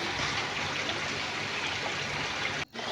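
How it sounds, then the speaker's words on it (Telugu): Water streams steadily from a small temple pond into a larger pond at Yaganti Temple, a continuous broadband rushing and trickling that stays close and loud, with only a brief dip near the end. "ఈ చిన్న కోనేరులో నుంచి అక్కడ పెద్ద కోనేరులోకి నీళ్ళు పోతుంటాయి అన్నమాట."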